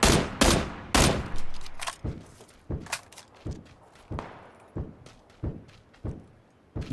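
Gunshots in the PUBG battle royale game on the desert map Miramar: a rapid, loud burst of shots followed by a steady series of evenly spaced single shots with sharp attacks and short decays.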